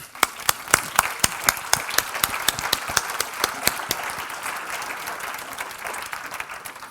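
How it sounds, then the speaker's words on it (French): Applause at a human resources congress plenary session in France: crisp, close claps in a quick, steady rhythm over a dense crowd clapping wash, the sharp individual hits fading after a few seconds while the broader applause carries on. "je vous propose d'applaudir Sophie Delpech"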